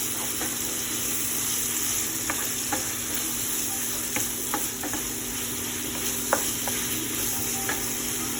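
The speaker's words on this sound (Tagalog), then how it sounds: "Yung mga mansig, ginisa na natin bawang sibuyas, kamatis." Garlic, onion and tomato sautéing in a pan, a steady bright sizzle with occasional stirring clicks and a constant background hum, no voices.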